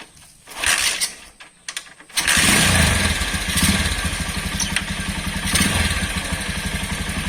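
A Honda Megapro motorcycle is kick-started: a few scuffing kicks, then the engine catches at once and settles into a loud, steady close-up idle with rapid even pulsing.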